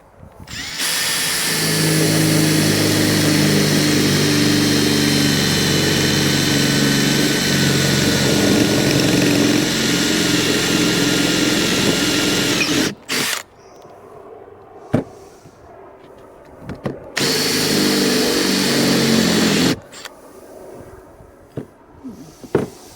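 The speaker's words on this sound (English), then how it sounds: "And let's see what it's like to drill." A power drill drilling a metal busbar whines loudly and steadily for about twelve seconds, stops, then runs again in shorter bursts with brief quiet gaps and clunks between.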